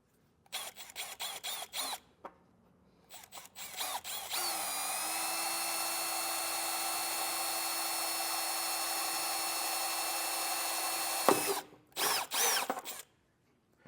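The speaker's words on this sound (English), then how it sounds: "We need to take a 3/8 drill bit and drill a hole in it." A power drill whirs steadily for several seconds at a high, constant pitch, boring a hole with a 3/8 bit for a hidden trailer hitch receiver, with short bursts of drilling and clattering before and after.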